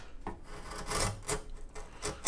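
A chisel hogging off over-the-counter wood veneer on the bevel of an acoustic guitar body, making short rasping scrapes in several quick strokes, close and fairly quiet.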